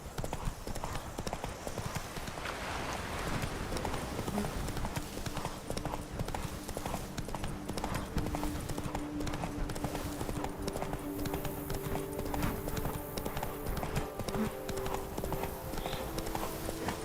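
Roach, Geralt's horse in The Witcher 3, gallops in a steady rhythm of hoofbeats that continues through the clip, with game music or ambience underneath and a brief whinny partway through.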